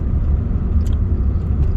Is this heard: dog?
no